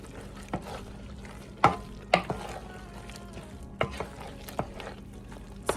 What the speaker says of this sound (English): Okay, let's add our cheddar. We'll get that stirred in.